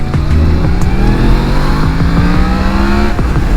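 Yamaha MT-10 motorcycle with its CP4 crossplane four-cylinder engine runs loud and close, its pitch rising and dropping through a series of rapid revs and gear changes.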